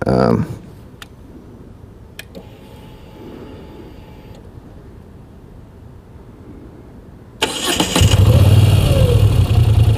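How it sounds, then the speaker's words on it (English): A 2016 Moto Guzzi V9 Bobber motorcycle is started. A quiet idle stretch with faint ticks and speech gives way to a loud engine firing up abruptly and holding a rough, steady run near the end. "So the first thing, turning the bike on, the bike twists."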